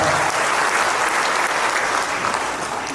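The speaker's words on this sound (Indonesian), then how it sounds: "Tepuk tangan yang meriah buat WTP kita." Loud, sustained clapping from a large crowd fills the whole moment, dense and steady without pause.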